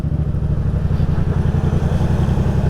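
A motorcycle engine pulling away uphill as the clutch and front brake are released, a loud close steady pulsing thrum with an even throbbing rhythm throughout.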